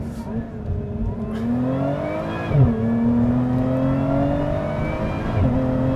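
A supercharged V6 Lotus Emira accelerates hard, its engine note rising in pitch, dropping sharply at an automatic upshift and then climbing again, heard from inside the cabin with a steady road rumble beneath.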